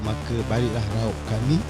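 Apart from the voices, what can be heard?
No everyday noise stands out behind the speech.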